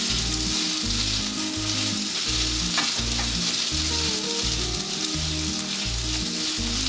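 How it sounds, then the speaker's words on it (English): Pork frying in a pan with dark soy sauce, a loud continuous sizzle and crackle under rhythmic low thumping, with no speech. "And you just kind of fry it until it dries out some."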